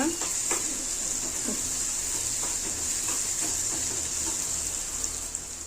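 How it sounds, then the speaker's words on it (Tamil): Ginger garlic paste sautéing in hot oil for a prawn and egg masala podimas, a steady close sizzling hiss with occasional soft scrapes of a spoon in the pan. "இப்போ இஞ்சி பூண்டு பேஸ்ட்டு நல்லா எண்ணெயில் வதங்கிட்டு"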